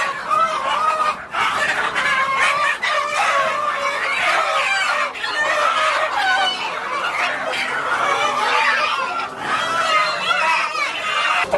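Native country chickens brought from a village market cluck loudly and continuously, with roosters crowing among them in a dense, close, noisy flock.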